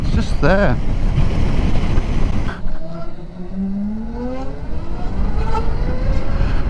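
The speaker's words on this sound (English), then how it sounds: "You do get a little bit of a whine just as the bike starts to spool up, but then it drops away and all you can hear is the wind noise then" A Zero SRS/SRF electric motorcycle gives a brief rising motor whine as it spools up, then heavy, loud wind rushing past the microphone dominates while riding.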